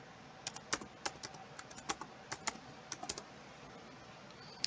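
A password is typed on a computer keyboard: a quick, irregular run of crisp key clicks, close but quiet, with a few brief pauses between bursts and no talk.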